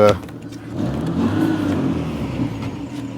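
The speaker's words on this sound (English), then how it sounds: "That very tired back box is sounding, well, very tired." A Daihatsu car runs with a very tired, worn exhaust back box, giving a steady low rumbling drone close by after a brief louder burst at the start.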